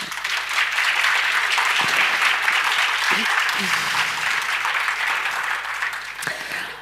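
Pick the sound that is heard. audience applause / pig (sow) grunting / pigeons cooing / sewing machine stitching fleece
audience applause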